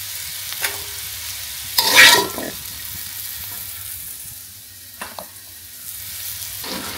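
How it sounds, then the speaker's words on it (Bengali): Potatoes fry and sizzle in a pan, stirred with a loud scraping burst near the start and a few lighter stirring clatters later over a steady background sizzle, no voices. "আলুগুলোকে একটু ভাজা ভাজা করে নিচ্ছি"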